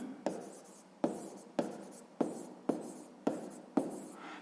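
Pen writing in a notebook during a sixth-grade maths exercise: seven regular scratchy strokes, each starting with a sharp tap and fading, close and quiet, no voices.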